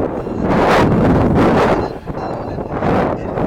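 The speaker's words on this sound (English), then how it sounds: "It's a rather windy day in Coventry." Strong wind buffets the microphone in loud, rolling gusts at a football match in Coventry, with a brief lull midway before it picks up again.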